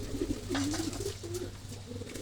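Pigeons coo in a loose run of low, throaty phrases close by, with a steady background hum and no talk.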